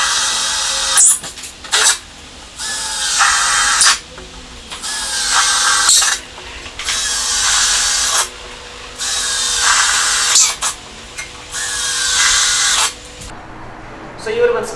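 A power drill bores offset holes in a metal sawmill guide in repeated bursts of several seconds each, whining loudly with short pauses between.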